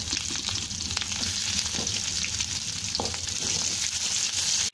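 Onion sautéing in hot oil with three dried red chilies for radish chutney, a loud, steady close sizzle with occasional spatula scrapes and crackles, no voices present.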